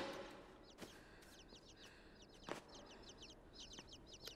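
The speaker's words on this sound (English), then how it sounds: "More bird chick things." Chickens clucking in the video game Inside, quick repeated chirpy clucks in clusters over a hissing ambient bed, with a few sharp thuds and clicks, faint and somewhat distant.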